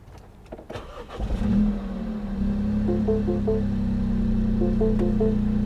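An older car at a salvage auction yard cranks with a few quick starter clicks, catches, and settles into a steady, loud idle hum close by, with faint repeated chime tones over the engine.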